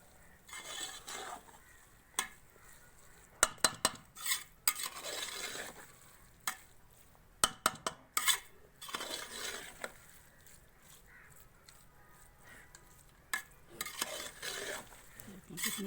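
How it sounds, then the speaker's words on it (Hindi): Grated carrots for gajar halwa roast in a pan on a village stove, with repeated scraping and clanking strokes of a spoon against metal over a quiet sizzle, in irregular bursts. "अब हम इसको चूल्हे पर चढ़ा देते हैं और अब इसकी सिर्फ भुनाई होना बाकी है"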